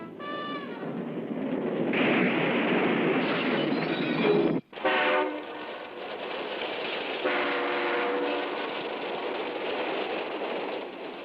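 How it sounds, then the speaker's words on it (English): A New York Central Railroad passenger train runs past on the track in a loud, steady roar of wheels and cars. Metallic squeals and clatter run through it, with a brief gap partway through. "That's a real train with people on it."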